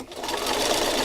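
Sewing machine stitching rows of fabric, a rapid, steady mechanical whir close by, running the whole second without talk.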